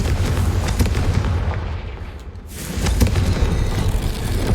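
A Confringo fire spell bursts in the Hogwarts Legacy video game, a loud, dense rumbling blast with crackling booms that dips briefly, then swells again into continued explosive noise.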